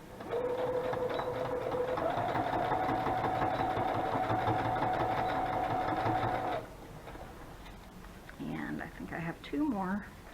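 Sewing machine stitching tiny paper stamp booklets together, running steadily and loud for several seconds before stopping, after which someone speaks.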